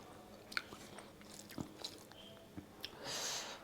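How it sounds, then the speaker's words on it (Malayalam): Someone crunching and chewing chammanthi podi, a dry coconut chutney powder, close to the mouth, with a few distinct bites and softer chewing between them. "ചമ്മന്തിപ്പൊടി ടേസ്റ്റ് ചെയ്ത് നോക്കട്ടെ കേട്ടോ."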